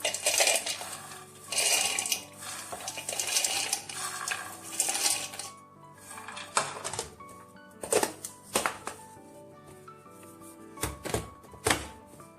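Nuts being chopped in a hand-operated manual chopper, giving bursts of clattering, rattling grinding that come and go with sharp knocks and pauses between strokes.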